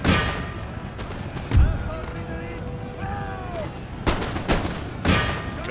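Musket volleys in the Empire: Total War strategy game crack out as several sharp, loud bursts spaced a second or two apart, with battlefield din and faint tonal calls between them.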